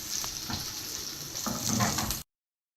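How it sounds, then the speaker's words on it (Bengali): Sliced onions, already browned, fry in hot oil with bay leaves, cinnamon and white cardamom, giving a steady close sizzle and crackle that swells slightly toward the end before cutting off. "এখন আবার এটা আমি একদম ভেজে নিব।"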